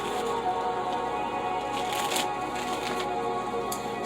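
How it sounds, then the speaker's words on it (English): Tarot cards are shuffled by hand at close range, a steady papery riffling with crisp flicks and light snaps against a faint background hum. "Last shuffle for Aquarius."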